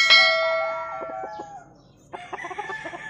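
A black hatch gamefowl bullstag with high station and blue legs crows loudly and close, a long drawn-out call that fades. A second, more broken crow follows after a short pause.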